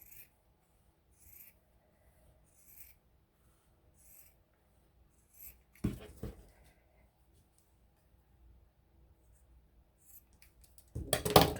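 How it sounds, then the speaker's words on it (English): Scissors cut a long strip all the way down for a collaged Dollar Tree tin craft, giving faint, evenly spaced snips that end in a louder rustle. "I'm just going to cut a strip"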